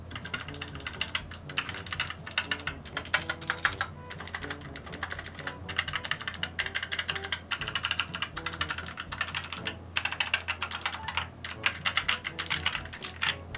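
Keys clatter on a Signo KB-781 Magusta waterproof gaming keyboard, a close, continuous run of crisp clicky keystrokes in quick uneven rhythm with brief pauses, with no voices over it.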